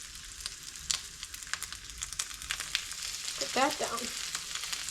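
Pieces of blue runner fish frying in a hot pan give a steady close sizzle, with bright crackling pops rising near the end and no talk over it.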